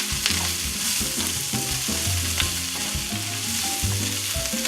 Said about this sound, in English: we're just going to give this a stir